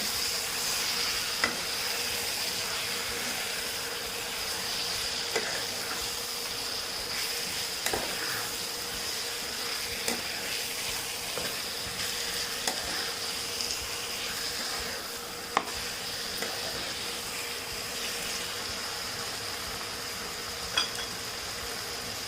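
Chettinad chicken cooks in a pan with a steady, close sizzle and soft scraping of stirring throughout, with no one talking.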